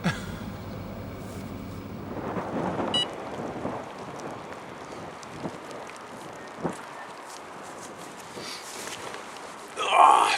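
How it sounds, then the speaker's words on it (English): Rain beginning on a cold winter day at a carp and pike fishing lake, a soft, steady patter of drops with light wind and a few faint knocks, rising into a louder gust at the very end. "Proper winter weather today. Just started raining."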